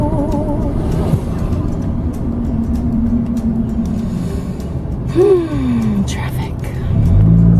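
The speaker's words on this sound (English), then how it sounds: "Traffic." Road traffic rumbling past, with a vehicle engine droning steadily and one tonal whine sweeping down midway, ending with a louder low rumble as another vehicle approaches close by.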